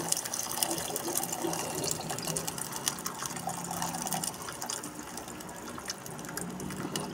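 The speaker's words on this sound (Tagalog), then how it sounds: "Pakulang tayo ng tubig." Water pouring into a cooking pot on the stove before being brought to a boil for fish, a steady continuous splashing and gurgling rush that holds at an even level throughout.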